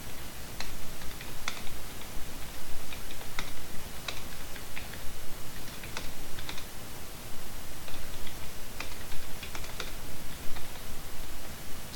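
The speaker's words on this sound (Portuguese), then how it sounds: "Então vamos simplesmente continuar a digitar aqui." Someone types on a computer keyboard with light, irregular clicks scattered across a steady hiss of background noise, with no voices.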